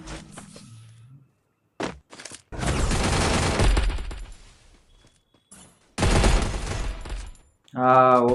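Gunfire in the Free Fire battle royale game, heard as bursts of rapid shots in two long dense volleys with brief isolated cracks between, loud and close, with a short tonal game sound at the end.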